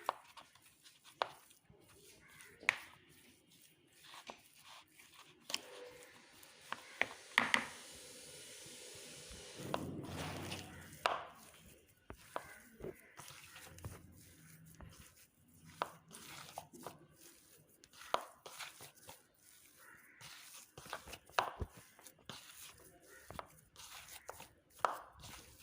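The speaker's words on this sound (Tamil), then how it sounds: "எல்லாமே நல்லா மிக்ஸ் பண்ணிக்கலாம்." Mashed potato is mixed by hand with chopped coriander, salt and turmeric for a panipuri filling: quiet soft squishing and scraping with scattered light clicks and taps, close but faint, with no talking.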